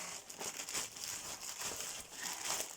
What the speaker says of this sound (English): so you haven't got to listen to all the rustling